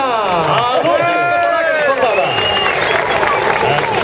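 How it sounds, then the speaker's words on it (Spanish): A crowd at a Vuelta a España stage finish in Andorra claps and cheers for cyclist Juan Antonio Flecha, with steady dense applause under a loud announcer's voice. "otro fuerte aplauso también para Juan Antonio Flecha"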